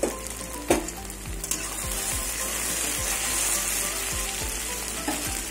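Taro stolons (kochur loti) sizzle steadily as they fry in a covered pan, a bright continuous crackle broken by a few sharp clinks and scrapes of a spatula near the start and end.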